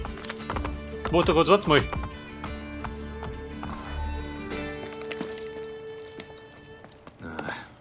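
Horse hooves clip-clop in the Assassin's Creed Brotherhood video game, steady and mid-distance under a busy game soundscape with music and a neighing whinny, while someone talks over it.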